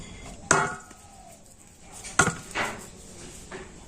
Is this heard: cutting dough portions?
yes